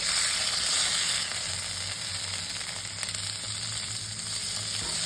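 Green beans fry in a wok with only a drop of oil, giving a steady, close sizzle and hiss that runs without a break, with soft stirring scrapes underneath.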